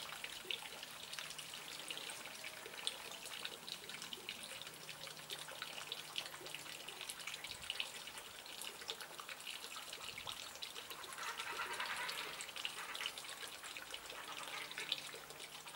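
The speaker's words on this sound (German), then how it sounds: "Jetzt wasche ich mir erstmal die Hände." Water runs from a tap as hands are washed beneath it, producing a continuous soft trickle and splash that swells briefly partway through, with no talking.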